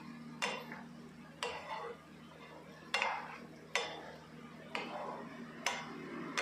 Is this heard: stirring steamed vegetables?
yes